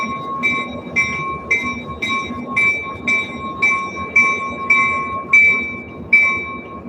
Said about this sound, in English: Those are commuter trains over there.